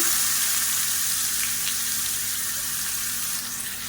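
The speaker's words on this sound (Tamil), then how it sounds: "இப்போ இது கூடவே பொடியாக கட் பண்ண வெங்காயம் சேர்த்துக்கலாம்" Chopped onions frying in hot oil with mustard seeds, fenugreek and curry leaves for a South Indian kulambu, giving a loud, steady, close sizzle that hisses continuously throughout without pause.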